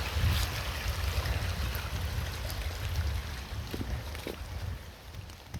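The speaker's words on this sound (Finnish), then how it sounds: "Tässä olisi tommonen purouoma." A small brook runs through a protected forest reserve in Finland in May, with a steady broadband rush of water and low rumbling close to the microphone, continuous and without voices.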